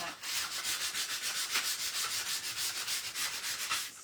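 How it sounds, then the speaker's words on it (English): A handmade Christmas candy-land craft piece being sanded at an angle: steady rhythmic back-and-forth rubbing strokes, about five per second, close and moderately loud, with no talking. "sand this in an angle and try to get it to look like that."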